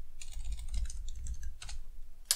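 Brisk typing on a computer keyboard, a short run of light irregular key clicks up close, ending with one sharper keystroke, with no talk.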